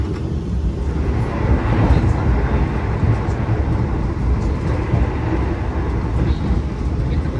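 Inside the Bogowonto New Generation economy passenger train running at speed through a station, a steady, loud low rumble and roar of wheels on rail fills the cabin continuously without letup.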